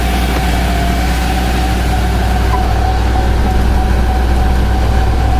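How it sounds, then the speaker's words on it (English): A Darley tactical pumper fire truck on a CV515 chassis idles steadily, a constant low, heavy engine rumble with a faint whine on top, loud and unbroken throughout with no talk. "Bring the vehicle back to an idle."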